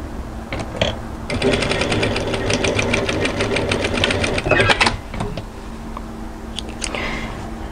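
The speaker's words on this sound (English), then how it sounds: "back tack at the beginning and end and sew that seam" A sewing machine stitches a 1 cm seam on a raglan hoodie, its needle chattering in a steady rapid rhythm for several seconds up close, with short pauses and soft handling noises around it.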